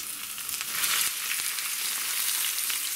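Loud, steady sizzling of stuffed crucian carp frying in hot oil in a pan, with crackles and pops close by and no voices.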